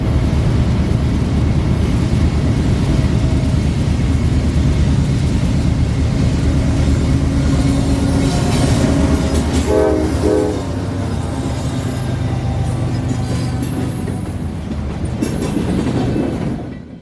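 A freight train led by an AC4400 locomotive rolls past loud and close, a heavy continuous rumble with rail clatter and a brief horn-like tone midway, fading slightly near the end.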